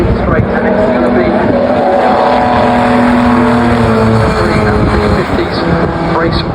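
Race car engine at Brands Hatch during an Equipe race weekend: a loud, sustained droning engine note that shifts in pitch as it passes nearby, with a steady rumble throughout and a voice speaking over it.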